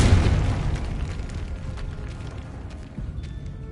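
Confringo blasting spell going off in the Hogwarts Legacy video game, a deep booming explosion at the start that rolls off and fades into a quieter rumbling tail.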